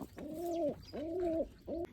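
Three repeated low, rounded coos from pigeons, close by and clear, each a sustained warbling call separated by short pauses.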